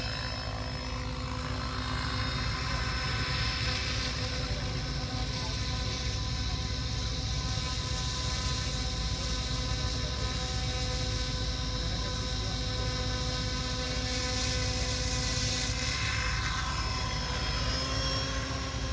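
An F3C precision RC model helicopter flies hover and aerobatic manoeuvres, its rotor and engine whine steady and fairly close for the whole stretch, with pitch shifting slightly as it moves and no voices.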